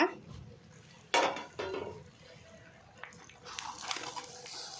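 A plate is set as a lid over a pan of bangda mackerel frying in green masala on medium gas, giving a sharp ceramic-on-metal clink and a brief rattle, followed by quieter clatters and a soft background sizzle.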